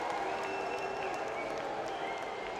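Sarcastic applause from an ice hockey crowd at a Braehead Clan versus Manchester Storm game, a steady wash of clapping and crowd noise filling the arena for a few seconds.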